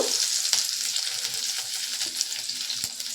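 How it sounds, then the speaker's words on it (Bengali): Six or seven garlic cloves frying in hot ghee for tomato egg soup, a close, continuous bright sizzle with faint crackles and a few small pops, no voices. "এই রসুনের কোয়াটা তেলে দিয়ে দেবো রসুনটাকে একটু ভালো করে ভেজে নেব"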